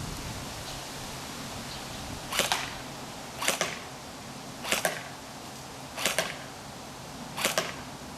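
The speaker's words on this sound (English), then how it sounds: "I'll be taking 5 shots, and I will be aiming at the center of the target out there." Tokyo Marui MP5K PDW airsoft gun fired five single shots outdoors at a target 25 feet away, each a sharp snappy crack spaced about a second apart over steady background hiss.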